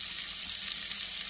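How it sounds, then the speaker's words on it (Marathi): Whole spices frying in a pan for a mixed vegetable pulao, a steady, even hiss of sizzling oil that stays constant and fairly quiet throughout. "तर खडे मसाले आपले छान फ्राय झालेले आहेत"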